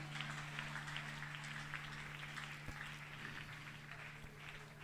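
Congregation applauding continuously at a church worship service, a dense steady patter of many hands with a low sustained hum beneath it, lasting throughout.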